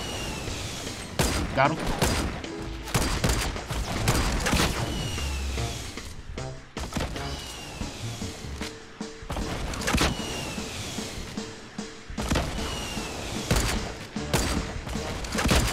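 Rockets firing and exploding in the video game Fortnite, a loud continuous barrage of blasts and crashes layered with gunfire, while players shout and talk over it.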